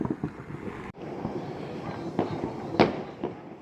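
New Year's Eve fireworks bursting over Russia from a balcony: a string of sharp cracks and booms at irregular intervals, some near and loud, others distant, over a steady rumbling wash of far-off explosions.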